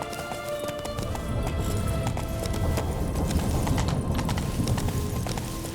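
A horse clip-clops at a gallop with a whinny in The Witcher 3 video game, hoofbeats loud and steady over game music and ambience.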